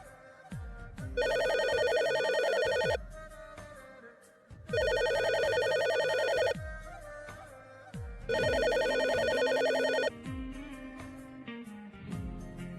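A telephone rings on an outgoing call in a comedy romance drama, in three long, loud ringtone bursts separated by short pauses, with no talk over it.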